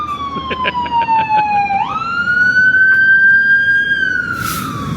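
A loud wailing emergency siren sweeps slowly down then jumps higher and holds, close and prominent over faint traffic noise.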